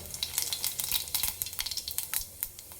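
Cumin seeds crackle and sizzle in hot oil as a tempering for a village-style green chilli pachadi, with a dense run of sharp close pops over a steady frying hiss and no voices.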